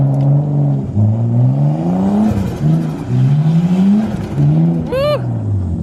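A car does a burnout on a dirt backyard drift track, its engine revving in repeated rising surges that drop between pulls, loud and close. A shout rings out near the end.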